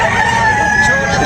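A rooster crows loudly and close at a rooster sale expo in Tabunok, Talisay, a brief crow over general crowd bustle.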